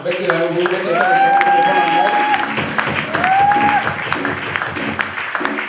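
Church congregation applauding during a Sunday service, sustained clapping and crowd noise beneath someone speaking over a microphone, with organ or keyboard tones sounding through the applause.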